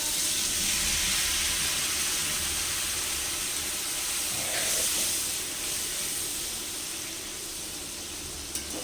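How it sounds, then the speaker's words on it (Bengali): Water poured into Kashmiri chilli spices frying in hot oil for a potato curry gives a loud, steady hiss and sizzle that runs unbroken throughout, easing slightly toward the end with a brief click near the close. "একটু নাড়াচাড়া করে সামান্য পরিমাণে জল দিয়ে দিচ্ছি"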